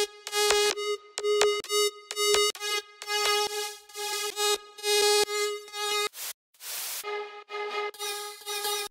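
A buzzy, sharp future bounce synth lead made in FL Studio, layered with chorus, OTT compression and reverb, plays a bouncy staccato riff of clipped notes and pitch slides, loud and close, with no voices.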